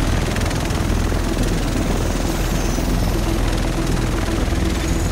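A helicopter arrives in The Division, its loud, steady rotor chop and engine roar filling the whole stretch with no pauses.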